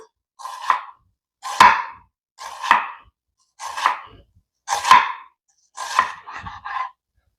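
A knife chops onions into julienne on a cutting board, six or seven separate bursts of rapid slicing spaced about a second apart, close and clear.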